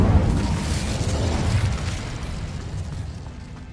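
Incendio fire spell cast in Hogwarts Legacy: a loud, close whooshing burst of flame that swells at once and then slowly fades over a few seconds, heard alone.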